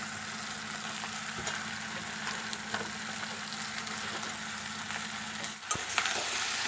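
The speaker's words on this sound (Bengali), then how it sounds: "আমি আলু আর বেগুনটা ভালো করে নেড়ে নিয়েছি" Eggplant and potato frying with Malabar spinach and jackfruit seeds in a pan over a gas flame, stirred steadily; a continuous close sizzle with soft scraping and a brief clatter near the end.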